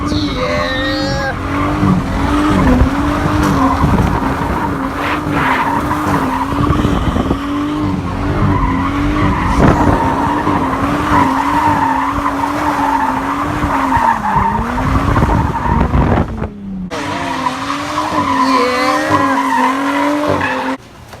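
A loud, raspy straight-piped Nissan 400Z engine revving hard while drifting, tires squealing and skidding continuously, with a brief break in the noise near the end.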